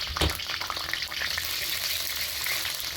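Whole cinnamon, bay leaves and cardamom spit and crackle in hot oil for chicken bhuna, a steady loud sizzle with a sharp pop near the start.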